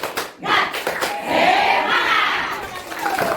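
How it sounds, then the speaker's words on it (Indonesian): A classroom group of teachers claps a rhythmic 'tepuk semangat' cheer, loud overlapping claps and shouted voices close by, building into a burst of cheering. "Tepuk semangat."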